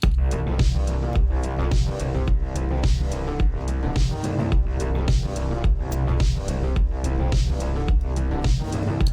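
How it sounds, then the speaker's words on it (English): A full synth track plays continuously, its synth line run through a Korg SDD-3000 digital delay and panned slightly right, with sidechain compression giving a rhythmic pumping pulse against steady low bass. "And finally, let's throw on that sidechain compressor as well."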